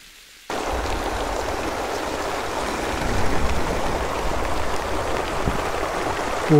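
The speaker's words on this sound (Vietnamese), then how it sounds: "Bây giờ nước chảy trên kia xuống này." Rainwater runs downhill in a highland area after a storm, forming a stream: a steady, full rushing and splashing wash that starts abruptly and continues evenly, close and fairly loud, with no talk.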